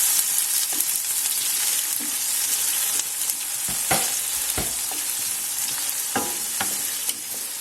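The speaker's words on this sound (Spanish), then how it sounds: "Echamos nuestra cebolla para hacer primero el sofrito y añadimos también el pimiento, le damos unas vueltas" Onion and green pepper for a paella sofrito fry in sunflower oil in a pan, hissing steadily. Every few seconds a utensil clacks and scrapes as the vegetables are turned, with no talking.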